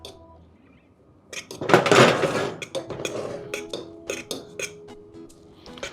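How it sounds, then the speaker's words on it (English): A fork fluffs cooked quinoa in a pot, making a run of metallic scrapes and sharp clinks against the pot, some busy and clustered and others spaced apart. "I'm going to take a fork and I'm just going to kind of fluff it a little bit, just to break it up a little bit"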